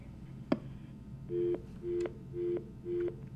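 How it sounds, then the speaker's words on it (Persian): A telephone busy signal follows a dropped call: four evenly spaced steady beeps after a brief click, fairly clear against faint line noise. "ببخشید که تلفن قطع شد"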